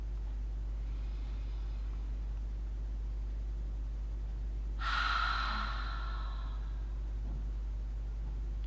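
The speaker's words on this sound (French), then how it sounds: "Prendre une respiration." One deep breath, a single audible exhale rising clearly above a steady hum and hiss midway through, otherwise quiet with no talking.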